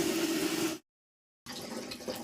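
Water splashes and sloshes steadily as clothes are rinsed, broken by a short silent gap before the watery churning resumes.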